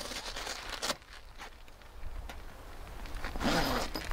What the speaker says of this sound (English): It has two zippers on either side.